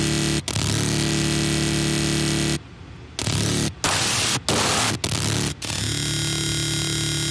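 A harsh, dense distorted synth tone from Serum with the drive turned up roars loudly, cutting out briefly several times in choppy bursts before resuming as a sustained noisy buzz.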